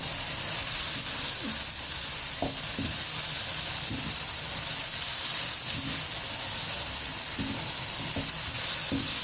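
Salt, black pepper and crushed red chilli fry in a pan with a steady, close sizzle and hiss, punctuated by irregular scraping clicks of a utensil stirring throughout.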